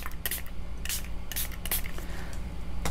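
A handful of short, hissing sprays of water from a spray bottle onto a watercolor painting, spaced irregularly, close by over a low steady background hum.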